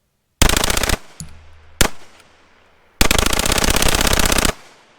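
Cobray M-11/9 submachine gun firing on full auto, loud and close: a short burst, a pause with a brief mechanical clatter, one quick shot, then a long sustained rapid-fire burst of about a second and a half.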